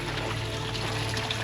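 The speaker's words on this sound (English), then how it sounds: "Love the water feature." Water in a garden water feature splashes and trickles steadily, a continuous close wash of falling water with no talking.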